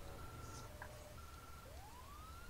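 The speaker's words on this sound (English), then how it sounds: "Whoever has that cool siren," A fire department vehicle siren in a video game wails faintly in the distance, a thin tone holding steady and then sweeping upward over a low rumbling backdrop.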